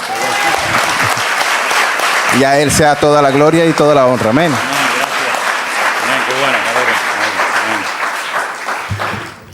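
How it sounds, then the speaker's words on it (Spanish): A church congregation breaks into loud, continuous applause, the dense clapping running throughout while a voice speaks over it in the middle before the sound tapers near the end. "Yo creo que Él se merece un fuerte aplauso"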